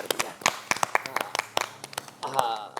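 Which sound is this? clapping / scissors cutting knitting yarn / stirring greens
clapping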